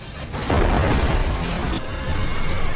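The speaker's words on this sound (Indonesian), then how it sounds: "saat si fotografer itu naik ke mobilnya, tiba-tiba mobilnya meledak." A car explodes in a film action scene, a dense, loud blast and crash that rumbles on and swells again near the end.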